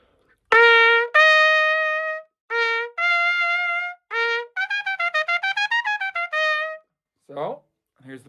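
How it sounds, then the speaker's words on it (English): A piccolo trumpet played open without a mute sounds a series of bright, clear notes, some long and held and others a quick run of short ones, close and alone with quiet gaps between phrases. "Regular piccolo trumpet sounds like this."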